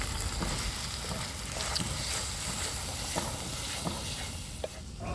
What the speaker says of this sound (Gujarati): મસાલો આપણો ચડી ગયો છે તેલમાં